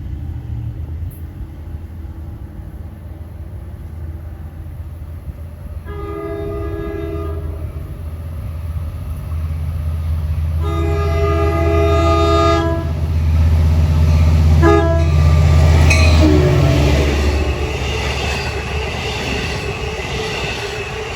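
Diesel train 650 on the non-electrified Port Jefferson Branch, running Hicksville to Port Jefferson, sounds its horn in two sustained blasts and a short third, over a low rumble that swells as it draws near.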